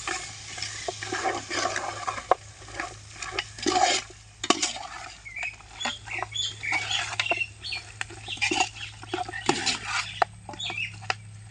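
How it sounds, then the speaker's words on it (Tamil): Mutton being stirred in a cooking pan, with continuous close scraping, clattering and wet sizzling, irregular bursts of spoon movement over a low steady hum. "கட் பண்ணி இப்போ நம்ம மட்டன் அள்ளி போட்டுக்கிறோம். இப்போ நல்லா கிளறிக்கிறோம்."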